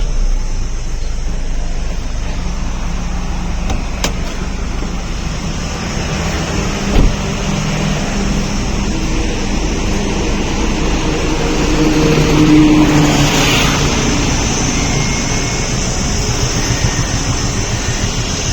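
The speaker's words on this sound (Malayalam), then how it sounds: "എൻജിൻ സൗണ്ടൊക്കെ നല്ല സ്മൂത്ത് തന്നെയാണ്." A 2018 Toyota Innova Crysta engine idles close by with a smooth, even hum, a faint click in the middle and a slight swell later, with no voices.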